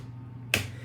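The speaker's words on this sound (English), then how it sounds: "Except you're doing it with the sound they call the djembe slap." A single djembe-style slap on an acoustic guitar body, the left hand on the upper bout muting the strings: one sharp, close percussive thump with no other sound around it.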